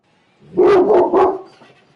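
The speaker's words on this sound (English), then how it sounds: "So my dog is going nuts." A pet dog barks excitedly at the mailman, three loud, close barks in quick succession, then fading into quiet room noise.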